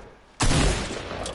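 A single loud gunshot burst from an infantry hunting rifle in Fortnite, sudden after a quiet lead-in, then a sustained ringing decay to the end.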